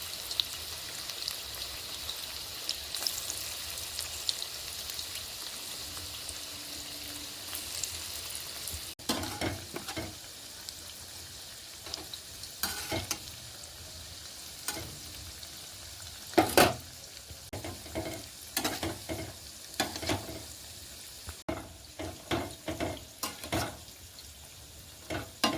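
Food and egg sizzling in a hot frying pan, a steady crackling hiss with repeated scraping stir strokes and clinks, fairly close and without talk.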